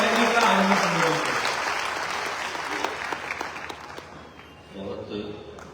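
An audience at a Gayatri Parivar youth camp in Bhopal applauds to welcome a guest speaker, a loud burst of clapping that slowly fades as a speaker's voice comes in near the end.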